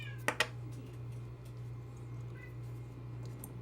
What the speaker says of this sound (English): Yeah, meow, meow. She's on her wheel, just going nuts.